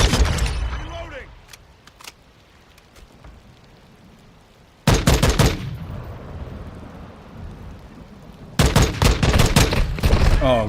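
Bursts of rapid automatic gunfire from Call of Duty Modern Warfare II combat come in two loud clusters, with a quieter stretch of distant shots and rumble between them.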